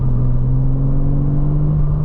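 A Porsche sports car engine drones loudly at a steady, high pitch, holding sustained revs close up without letting off.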